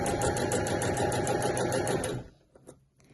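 A sewing machine stitches a folded-in-half bag handle strap along its edge, running in a fast steady whir for about two seconds before stopping, followed by a few faint handling clicks.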